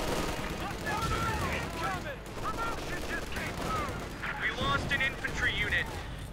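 Grenade blasts and rifle gunfire from the real-time strategy game Company of Heroes 2, with a Pak 40 anti-tank gun targeted, popping and crackling continuously under a commentator's talk.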